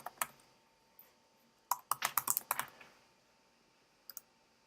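Short bursts of computer keyboard typing, close and crisp: a few isolated key clicks, then a quick run of rapid keystrokes, and two more taps near the end, in a quiet room.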